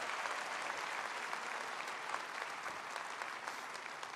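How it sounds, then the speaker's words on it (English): Audience at a Seneca Polytechnic graduation ceremony clapping in a sustained, even wave of applause that holds steady throughout, with no talking. "Let's give them a big round of applause as well."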